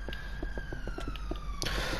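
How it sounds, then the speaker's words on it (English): Emergency vehicle sirens on a busy main road outside, a steady wailing tone that sweeps in pitch and is joined by a second siren near the end, heard through a room with faint background noise. "Apologies if you can hear all the sirens outside."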